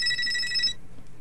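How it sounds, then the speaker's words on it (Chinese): A telephone rings indoors in a rural home, a bright electronic ring lasting under a second before cutting off into quiet room tone. "谁的电话呀？"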